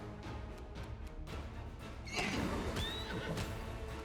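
A horse whinnies in a rising, shrill call during a battle in Pathfinder: Wrath of the Righteous, over a dense bed of game music and ambient noise, fairly close and clear.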